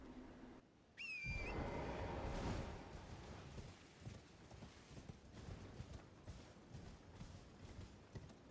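Horse hooves clip-clopping at a steady run in Elden Ring, preceded by a sharp whoosh and whistle-like summon cue, the rhythmic footfalls continuing alone at moderate loudness.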